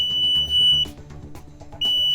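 A groundwater dipper conductivity probe touches water in a monitoring well and emits a thin, high-pitched electronic beep, which cuts off briefly and then resumes, loud and close.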